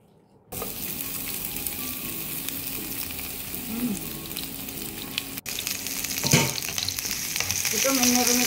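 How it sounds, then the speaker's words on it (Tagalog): Cabbage sautéing in a hot pan gives a steady, close sizzle and frying crackle for most of the stretch, with a few stirring clatters and a louder burst of sizzle near the end; no one speaks. "Ginisa ang cabbage."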